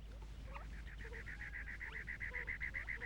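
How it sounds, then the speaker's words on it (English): A cactus wren calls in cactus desert country, giving a rapid run of harsh, evenly repeated chattering notes, fairly faint over a low background rumble, with other soft bird sounds around it. "The cactus wren is the largest North American wren and is common in cactus country."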